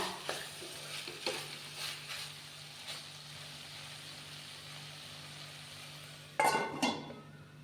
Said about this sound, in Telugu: ఇవన్నీ కొంచెం మంచిగా ఫ్రై అయ్యే వరకు అయితే మనం కలుపుకొని వేపుకుంటూ ఉండాలన్నమాట